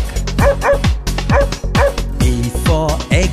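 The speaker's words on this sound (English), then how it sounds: "D for dog" A dog barks loudly in a rapid, rhythmic run of bow-wow barks with yips, close and clear over a steady musical backing.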